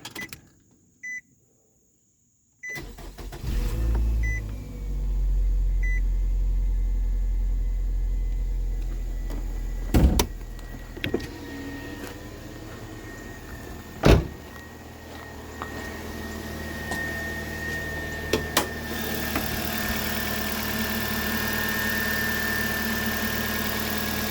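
A 2003 Nissan Altima 2.5 engine cranks and catches after a brief pause, then settles into a steady close idle, with a few sharp clicks and knocks over the hum.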